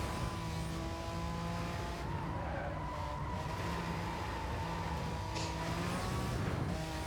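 Steady engine drone from a Lamborghini Countach racing in Need for Speed: Hot Pursuit, with pitch shifts from gear changes and bursts of tire squeal through corners.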